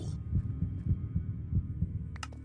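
A steady thumping heartbeat effect in Minecraft's Decked Out 2 dungeon, low double beats repeating quickly and evenly at moderate volume, with a brief high sound near the end.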